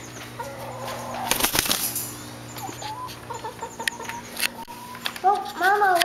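A chicken indoors on a bed clucks repeatedly while its wings flap in a loud burst early on, with a high rising squawk near the end and a steady electrical hum underneath.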